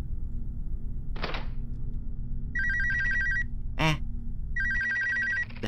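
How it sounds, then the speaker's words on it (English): A telephone bell rings in a scary video game, sounding in two clear bursts against low, droning ambience broken by a few dull thuds. "Phone? Telephone line wasn't cut?"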